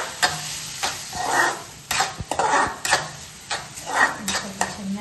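Masala fries in a pan as a spoon scrapes and stirs it, giving a soft sizzle under repeated clinks and scrapes of metal on the pan, with a voice talking over it.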